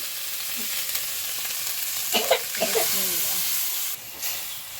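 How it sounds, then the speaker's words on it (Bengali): Egg bhuna stir-frying in a pan at a village picnic, giving a steady close hiss of frying with a few louder scraping and clattering bursts from stirring near the middle. "এখন আমরা নাড়া নিচ্ছি"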